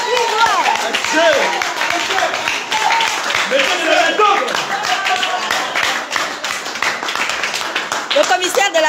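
An audience claps throughout a Pensée patriotique bureau installation ceremony in Paris, Île-de-France, with loud, steady applause and a voice talking over it.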